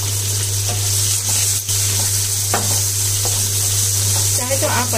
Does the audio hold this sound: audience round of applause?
no